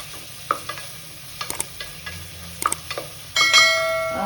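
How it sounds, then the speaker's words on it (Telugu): Ginger garlic paste dropped into hot oil for tomato rice: scattered clinks of a spoon against the pan, then a sudden rising sizzle that stays loud to the end. "ఒక స్పూన్ అల్లం వెల్లుల్లి పేస్ట్, అంటే ఆయిల్లో ఫ్రై చేస్తే పచ్చివాసన పోతుందండి."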